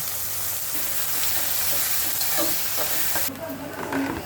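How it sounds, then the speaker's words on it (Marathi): Onion fries in well-heated oil for pav bhaji, a loud continuous sizzle and hiss close by, with a few stirring clinks and a slight drop in the hiss near the end. "तेलामध्ये कांदा टाकत आहे। तेल चांगलं तापलेलं आहे।"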